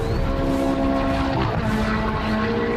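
A loud, steady Ferrari 430 engine drone with a tonal, humming exhaust note runs throughout, close and unbroken.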